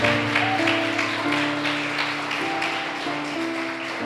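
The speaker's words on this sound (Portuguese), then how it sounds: "Vamos aplaudi-lo." A church congregation applauds, a broad wash of steady clapping with faint sustained organ or keyboard tones beneath it, moderately loud throughout.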